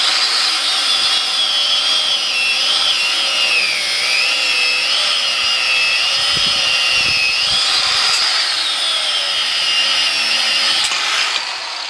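An abrasive cutoff wheel slices through a tire on a motorcycle wheel rim, with a continuous, loud, high-pitched whine that wavers slightly in pitch as the cut progresses.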